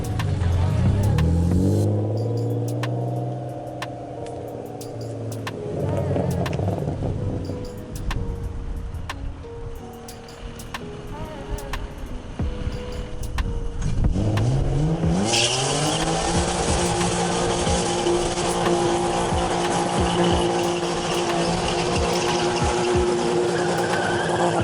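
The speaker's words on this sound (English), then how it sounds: "I'm gonna do a real burnout" A BMW E36 328ic with an open differential revving hard and doing a burnout, engine climbing and falling in repeated pulls before a long high rev with loud tire squeal and screech.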